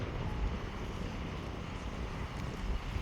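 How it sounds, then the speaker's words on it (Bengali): A strong storm wind in Saudi Arabia roars as a heavy, continuous rumbling buffet, loud and close, with gusty low-frequency pressure on the microphone and no voices. "সৌদি আরবে উড়িয়ে দেওয়ার মতো তুফান এমন অবস্থা দাঁড়ানো যাচ্ছে না"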